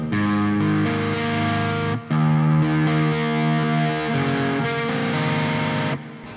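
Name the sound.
electric guitar through amp plugin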